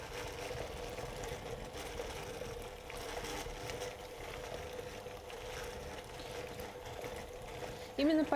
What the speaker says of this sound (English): I start whipping at low speed, just to break these big cubes into smaller pieces and not to spatter milk all over the kitchen